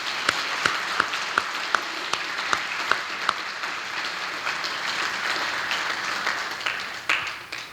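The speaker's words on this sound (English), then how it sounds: "Let's give them all a big round of applause." A crowd at an Irish family entertainment night gives a full round of applause, starting with a few sharp, distinct claps and swelling into sustained, dense clapping that tapers slightly near the end.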